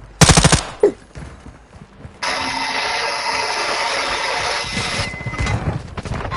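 Sustained automatic gunfire in the MWII Spec Ops video game: a few sharp shots, then a dense, loud burst of rapid rounds running for several seconds and trailing off with scattered shots.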